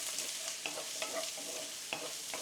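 Sliced onions frying in a little oil in a pan for palabok, with a steady close sizzle and occasional sharper stirring scrapes and pops.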